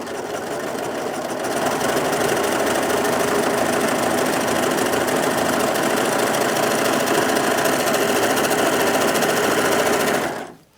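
A Brother 2104D overlocker whirs steadily at high speed, loud and close, with a dense mechanical buzz that runs unbroken for about ten seconds before stopping abruptly.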